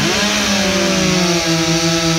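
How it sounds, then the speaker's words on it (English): Two chainsaws roar together as they cut timber in a logging competition, loud and continuous with steady engine pitch and no pauses. "We got 2 great saws going on."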